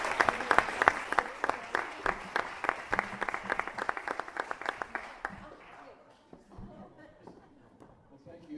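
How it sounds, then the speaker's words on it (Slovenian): Audience at a business seminar in Ljubljana applauds a speaker: loud, dense clapping from a roomful of people for about five seconds, then quickly thinning out and dying away into a quiet room with faint murmurs. "En aplavz za Tom."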